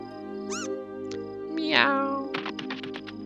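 A cartoonish cat meows twice in Trails in the Sky FC, first a short high call and then a longer rising one, amid layered game music and sound effects, followed by a quick burst of rapid chirping blips.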